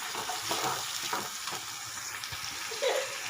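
Tomato gravy sizzling in a hot pan while cooking a dried val bean curry, a steady hiss of frying with soft stirring clatter and a faint splash near the end.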